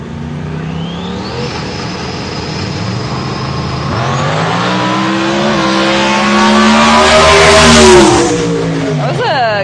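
A radial outlaw drag race car launches and pulls hard down the strip, engine note climbing in loud rising harmonics over about ten seconds with voices talking underneath.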